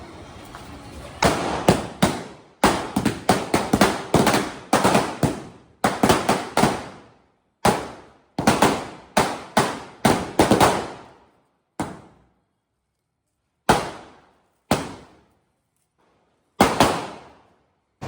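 Diwali firecrackers burst in a rapid string of sharp bangs, then scattered single pops follow with pauses between, loud and nearby.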